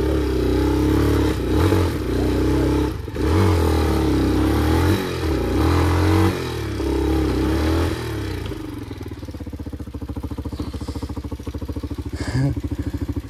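A Treme Maxx 200i motorcycle engine, bogged down in thick mud, revs hard in loud surging bursts up close, then drops to a rough, rapid idle chatter.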